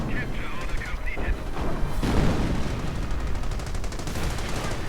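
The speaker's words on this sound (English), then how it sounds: "And the Hummel firing again." A Hummel self-propelled artillery gun fires in a World War II strategy game, a heavy booming shot rolling into a sustained rumble amid distant battle noise.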